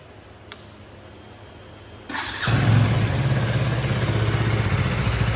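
A KTM Duke 250 motorcycle starts after a faint click and settles into a loud, steady idle, its exhaust note a close, even rumble that holds to the end.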